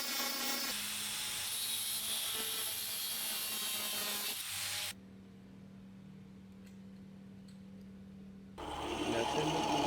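A steel angle, 3/4 inch by 2 mm thick, is cut to 5 1/4 inches for homemade go-kart steering arms. A loud, harsh cutting roar runs for about five seconds, drops to a low hum, then returns strongly near the end.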